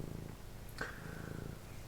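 A cat purring close by, a soft steady rumble running through the short stretch, with a brief higher chirp or squeak near the middle.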